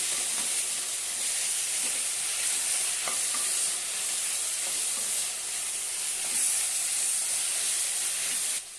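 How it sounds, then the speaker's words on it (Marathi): Grated potatoes fry in a hot pan for batata chutney, giving a constant loud sizzle and hiss with a few soft scrapes and knocks as they are stirred; no one speaks. "बटाटे किसून घेतलेले आहेत ते घालूया ते पण छानपैकी परतून घेऊया"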